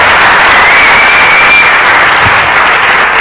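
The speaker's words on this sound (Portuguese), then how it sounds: "Uma salva de palmas para estas pessoas todas." Loud, dense applause from a conference audience at a creativity and entrepreneurship event closing, steady broadband clapping filling the whole stretch without a break.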